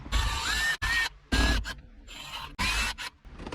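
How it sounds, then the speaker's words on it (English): Screws being backed out of a car dashboard to free the radio in a roughly 20-year-old vehicle, heard as several close, loud bursts of gritty rasping and mechanical whirring with short gaps between them. "There's 2 on this side and 2 over on this side. So I'm going to get those out."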